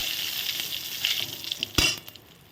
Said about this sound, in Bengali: জিরা তেজপাতা ফোড়ন দিয়ে দিলাম